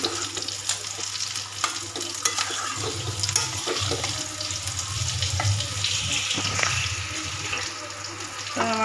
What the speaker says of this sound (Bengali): এবার আমি এর মধ্যে জল দিয়ে দেবো